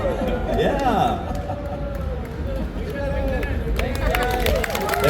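Comic convention audience at a Hocus Pocus Q&A cheering, whooping and clapping in a hall, a dense, steady wall of crowd noise that carries on from start to finish.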